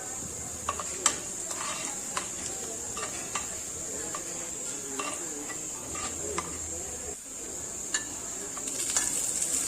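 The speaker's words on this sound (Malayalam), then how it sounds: "നമുക്കിനി ഇതിലോട്ട് വറ്റൽമുളക് ഇട്ട് കൊടുക്കാം" Dried red chillies fry in hot oil, giving a steady, even sizzle with faint stirring clinks and scrapes from a pan throughout, and no talking.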